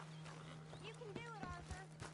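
A horse in Red Dead Redemption walking, its hooves clopping in a light, irregular rhythm under a voice and faint game ambience.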